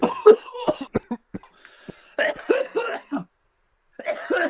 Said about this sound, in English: Bongs will make you cough way more